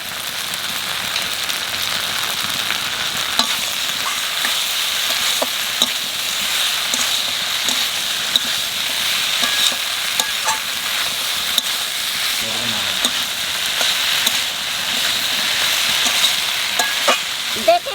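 Okra frying in a pan with raw onion and tomato being stirred in, giving a steady, fairly loud sizzle with scraping stir noises throughout and no talk.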